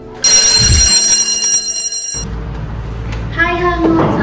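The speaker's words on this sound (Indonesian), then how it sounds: "bel istirahat pun berdering." A school bell rings loudly for break time, a bright sustained metallic ring that cuts off abruptly, followed by murmuring voices and a short electronic tone.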